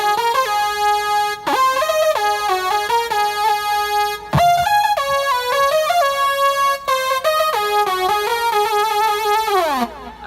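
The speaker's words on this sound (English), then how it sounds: "while I'm holding down this button, it'll give me a synth sound" Electric guitar triggering a synth patch over MIDI, playing a run of bright sustained synth notes and chords with steady level and a falling glide at the end, no talk.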